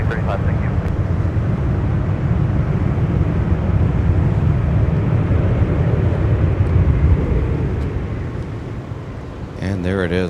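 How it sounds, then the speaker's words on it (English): An Airbus A330-900 arriving at Minneapolis–Saint Paul airport on a winter day, a broad steady engine roar of reverse thrust that holds through the landing roll and eases slightly near the end. "our arrival from Amsterdam, as you hear those engines reverse"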